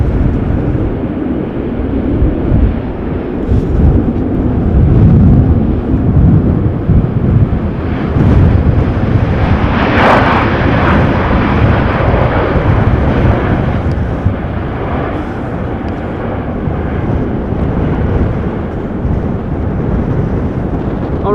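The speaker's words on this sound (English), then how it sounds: "KLM flight 1354, 737-800, returning from Prague in the Czech Republic." A KLM Boeing 737-800 airliner is arriving at Amsterdam Schiphol Airport during a storm. A loud, continuous jet engine roar is heavily mixed with gusting wind buffeting the microphone throughout.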